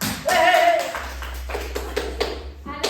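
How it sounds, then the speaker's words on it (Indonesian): A small group claps sparsely after a group presentation in a coding and AI training session, with a few scattered, uneven claps and room noise following a short burst of voice. "Tepuk tangan dong."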